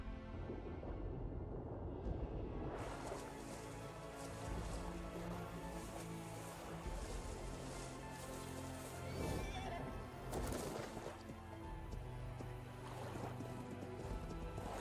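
Horse in the video game Ark neighing and whinnying with clip-clopping hooves, steady and fairly loud throughout, over a constant background of rain-like water ambience.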